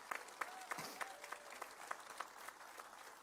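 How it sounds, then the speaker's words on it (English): Scattered applause from a modest outdoor audience at a park opening on Baltimore's Rash Field, individual claps audible in a loose rhythm, fairly faint with some murmuring underneath. "So let's give Lori another round of applause."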